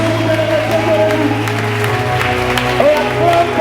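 A church congregation applauds, sustained clapping and crowd noise mixed with voices and a steady low musical tone underneath.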